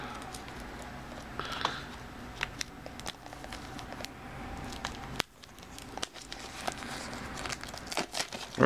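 Plastic packaging is cut open, with continuous close crinkling and rustling broken by small ticks and snips, fairly quiet and without speech.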